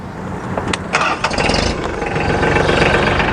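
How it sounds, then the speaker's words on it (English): A Mahindra Max 26XL compact tractor fitted with a backhoe cranks and fires, its diesel engine sputtering through a few uneven bursts before settling into a steady, close rumbling idle. "Give me just a minute to start the machine."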